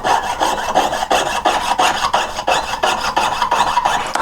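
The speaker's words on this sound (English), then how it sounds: "carefully chop through it" A jeweler's saw cuts through square wire in quick, even back-and-forth rasping strokes, about two per second, close and steady with no voices.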